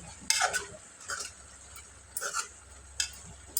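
Cabbage and potato curry with coriander being stirred in a pan, with a few separate soft scraping strokes of a utensil against the pan, faint and close, over a low background hum.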